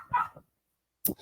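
A pet dog barks twice indoors, two short, close yaps separated by a brief silence, with no talk over them.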